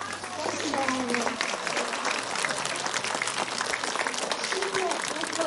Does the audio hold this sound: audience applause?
yes